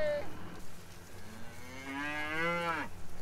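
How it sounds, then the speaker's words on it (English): Cattle in a muddy field let out a long, close, loud moo that swells and rises in pitch before breaking off, with low background rumble underneath. "Come on, cows!"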